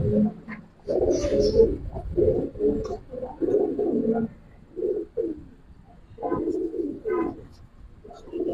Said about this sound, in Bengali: অনেক ভালো কবুতর শান ভাই